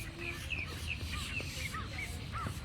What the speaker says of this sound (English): And there's some more crows